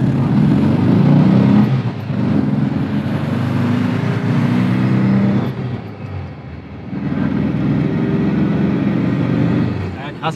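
Two VW T1 Bulli vans, one petrol and one electric, pull away side by side, their engines humming steadily and loud up close, easing briefly before building again, with some talk in the background.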